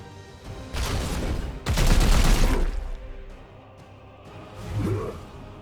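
Support fire gunfire erupts in the Warhammer 40,000: Chaos Gate video game, two loud bursts of shots and blasts in quick succession, then a quieter tail with a faint swoosh near the end.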